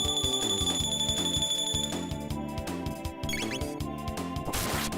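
Chiptune-style bell tones from the SNES game Chrono Trigger ring over a steady, loud game music backing, with repeated struck notes and a brighter crash near the end.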